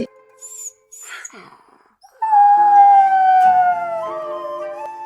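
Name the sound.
small dog whimpering and howling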